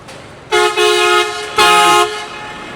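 Car horns on a busy Da Nang street: two loud, sustained honks close by, each lasting about half a second, over a low background of traffic noise.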